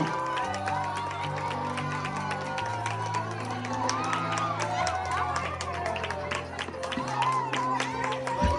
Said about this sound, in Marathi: चला फटाफट टाळ्या वाजवा टाळ्या प्रेक्षक टाळ्या वाजवा प्रोत्साहन द्या